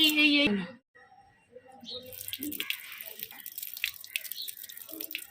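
A child washes their face with water at a sink, with close splashing, dripping and wet rubbing; a voice speaks briefly at the start, then the watery sounds continue.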